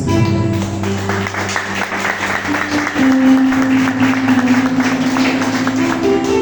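Church congregation at a Reformed Christian service applauding together, a dense steady patter of many hands over sustained organ or keyboard tones, fairly loud and continuous throughout.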